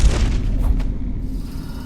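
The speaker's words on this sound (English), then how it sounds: "A gunshot." A gunshot in the stealth video game Dishonored, from the Brigmore Witches add-on, lands as a single heavy boom at the start and then decays into a fading rumble, with no talking over it.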